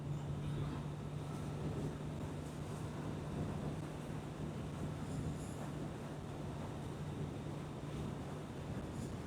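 Strong wind buffets the rider on a Kawasaki Z900 motorcycle on a hot-weather ride in Andhra Pradesh, a constant rushing roar with a low steady engine hum underneath, unbroken and fairly quiet.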